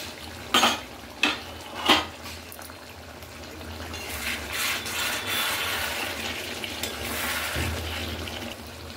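Metal lid lifted off a pot of chicken cooking in its own juices with yogurt and tomato, three sharp clanks followed by a soft steady bubbling simmer, no talk.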